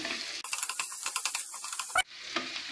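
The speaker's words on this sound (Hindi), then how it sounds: "तेल गरम हो चुका, इसमें प्याज डालेंगे। प्याज को 1 मिनट तक भूनेंगे।" Onion being fried in hot oil in a pan, a steady close sizzle with frequent stirring clicks and scrapes, a sharp louder burst near the end, and no voices.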